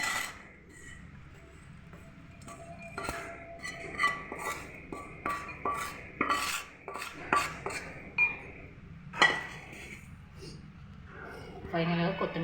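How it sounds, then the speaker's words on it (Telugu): A spoon scrapes and clinks against a metal pan and bowl as banana fry is transferred into a serving bowl, a run of irregular close metallic taps and rattles while a person talks. "సర్వింగ్ బౌల్లో తీసుకుంటాం."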